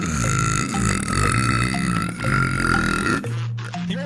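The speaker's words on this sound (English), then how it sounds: "do you want to have a burp battle?" One long, loud, close burp drawn out for several seconds, with a short rumbling belch following, no talking.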